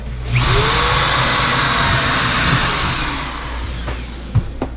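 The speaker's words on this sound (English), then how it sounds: "You literally just drop it in the hole and drill." A power drill whirs steadily at high speed for several seconds, boring pocket holes through a jig, then winds down, followed by a couple of short bumps and clicks.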